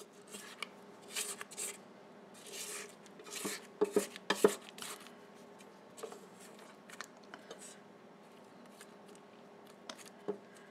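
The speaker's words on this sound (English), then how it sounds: "I'm going to turn it off and scrape down my bowl" A spatula scrapes down the sides of a mixing bowl of tres leches cupcake batter after mixing, with the beater also scraped clean: a series of short, quiet scraping and tapping strokes, close and irregular.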